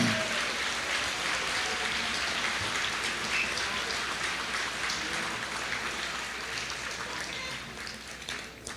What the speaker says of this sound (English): would everybody give them a round of applause